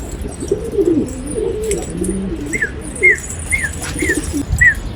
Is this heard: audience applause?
no